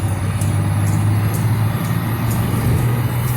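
A truck engine drones loud and close in fourth gear, a steady low rumble with a faint high whine and a few light ticks through the cab, no talking.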